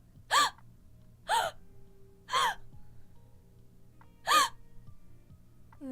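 A person voice acting gives four sharp, breathy gasps spaced about a second apart, each brief and close, separated by quiet room tone.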